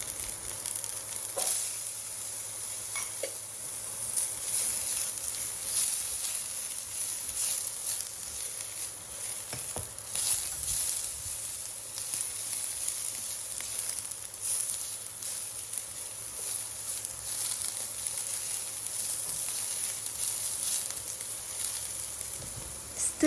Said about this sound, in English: Stir fry till they are slightly softened and then add mushroom